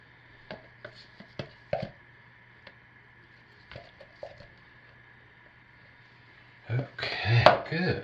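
Soap being scraped out of a container with a utensil, giving sparse clinks and scrapes followed by a louder burst of scraping near the end, with a voice speaking in the background.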